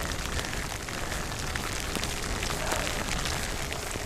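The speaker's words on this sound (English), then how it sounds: "it's been raining a lot in St. Louis, Missouri" Rain falls steadily on a night bike ride in St. Louis, Missouri, a dense, even hiss of drops on surfaces with occasional louder patters, no voices.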